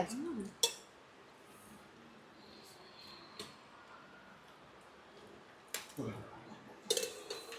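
Dishes, pots and pans being washed in a home kitchen, faint scattered clinks and scrapes with a few sharper clatters near the end, voices murmuring in the background.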